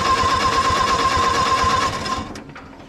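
A Co-op E3 tractor engine, abandoned for years, cranks over with a steady, fast rhythmic chugging for about two seconds, then falls quiet.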